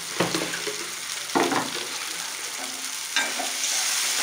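Onions fry in oil for brinjal gravy, giving a steady sizzle with a few louder bursts of stirring scrapes, close and continuous, with no voices.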